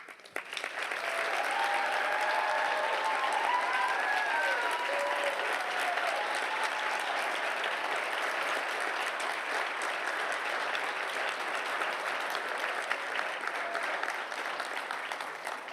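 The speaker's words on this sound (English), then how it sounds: "join me in applauding these graduates as they rise to their feet" A large audience at a college commencement applauds the graduates as they stand, a dense, sustained wash of clapping that holds steady and loud throughout, with a few faint voices mixed in.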